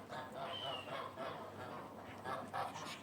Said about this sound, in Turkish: Kazlara da bakacağız